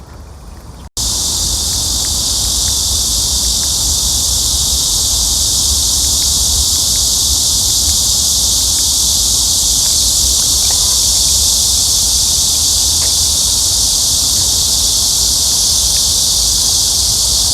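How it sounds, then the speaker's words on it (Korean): Cicadas sing overhead along the Han River riverside path at Seobinggo and Ichon-dong on a summer day, a loud, dense, unbroken buzzing drone that fills the whole stretch with no talk. "여기는 매미 소리가 한층 더 큰 것 같아요. 머리 위에서 힘차게 울어대네요."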